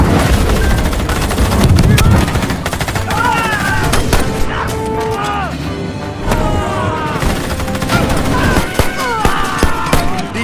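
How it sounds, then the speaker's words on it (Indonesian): Gunfire erupts from hidden Japanese soldiers in a World War II battle scene on Saipan, bursts of shots and automatic fire layered over dense film score and battle noise, loud and continuous with no clear isolated reports. "Namun tiba-tiba tentara Jepang yang bersembunyi langsung menembaki mereka."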